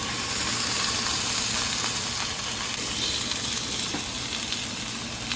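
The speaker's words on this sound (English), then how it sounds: "We're gonna sear the fat side first." Brisket fat side searing in an oiled pan, a steady close sizzle with constant hiss and faint crackle throughout, no voices.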